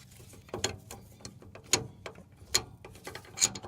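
Ratcheting wrench tightening a fuel filter fitting on a GM full-size truck, four separate sharp ratchet clicks at spaced, uneven intervals, close and fairly quiet over a low background rumble.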